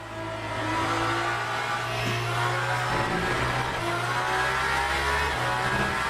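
A race car in the Le Mans Ultimate sim racing game drones loudly and continuously, its engine note rising and falling as it revs through the gears, with no talking over it.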